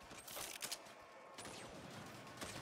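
Saints Row video game gunfire, bursts of sharp rapid shots in several short volleys, fairly faint and mixed with game effects.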